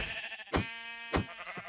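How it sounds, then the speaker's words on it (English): Sheep bleat in Minecraft with the Aether mod installed, giving two clear, short, wavering bleats about half a second apart over steady game background sound, with a fainter third call at the very end. "I see some sheep over here, so we're going to definitely want to get some what's wool"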